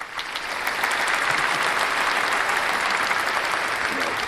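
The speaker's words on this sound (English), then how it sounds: "Let's give a clap there, and we'll have some more applause tomorrow." An audience at a crypto tech announcement event breaks into steady, dense clapping that swells quickly and holds at an even level throughout, with no talk over it.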